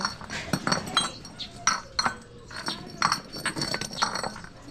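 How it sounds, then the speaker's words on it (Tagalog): Glass bottles clink and knock against each other in a series of bright, irregular taps, close by, with quiet background noise and brief vocal sounds in between. "Bote pa na bote."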